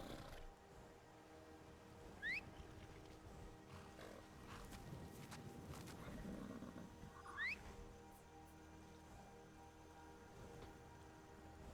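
A horse in a video game gives two short rising calls several seconds apart, over a steady low game ambience.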